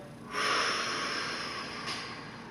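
A deep exhale during a seated stretching routine, a long breathy rush of air that swells quickly, then fades slowly over about two seconds with a faint catch near the end, close and soft.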